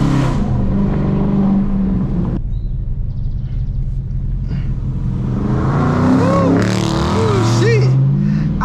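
Dodge R/T and Mustang cars drive on a highway with a loud continuous engine roar and road rumble, rising revs swelling and falling as the cars accelerate close by.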